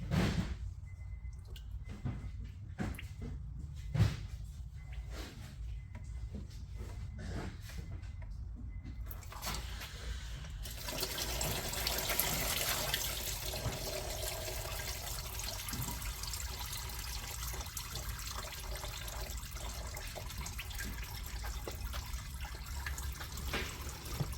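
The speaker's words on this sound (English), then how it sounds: "let me actually try to drain this oil pan a little bit more" Transmission oil draining from the pan of a Mercedes 9G-Tronic nine-speed automatic gearbox, a faint irregular dripping at first, then a steadier pouring trickle of liquid, close and quiet, with no voices.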